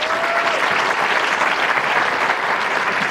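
Dense, steady applause from an audience at a county address, loud and sustained from start to finish with no talking over it.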